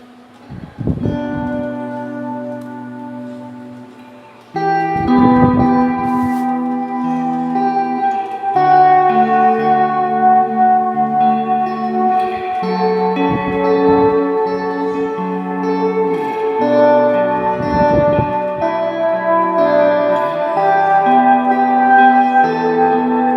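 Electric guitar played through a Lightyear BFFX reverb pedal in ambience mode, reverb with modulation, ringing out in bell-like sustained chords and notes that swell and shimmer with a long wash of tail, steady and fairly loud, with no talking.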